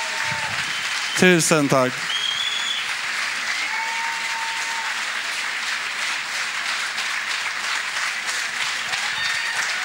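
Warm, sustained audience applause at Stockholm Pride, a steady crowd clapping that continues throughout, with a brief spoken thanks near the start.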